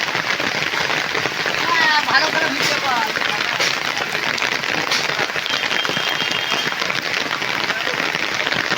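Heavy rain pours down steadily in Gopalpur, a dense, continuous hiss that stays loud and even throughout.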